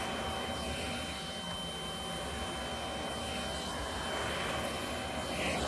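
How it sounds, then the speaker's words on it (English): Haushof 24V cordless 2.5-gallon wet/dry vacuum cleaner sucking on carpet, a steady, close whooshing motor drone with constant airflow hiss, holding level and swelling slightly near the end. "as I push it, you hear it sucking"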